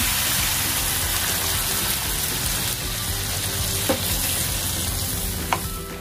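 Steady loud sizzling as water is added to a hot frying pan of prawns, with a few sharp clinks and stirring scrapes, no voices.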